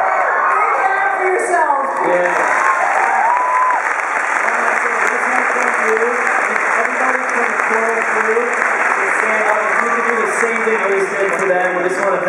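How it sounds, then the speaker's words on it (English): A packed Comic-Con convention panel audience erupts into a huge cheer, loud sustained roaring, whoops and clapping from a large crowd with individual shouting voices rising above the din. "we're all going to just burst into a huge cheer of approval"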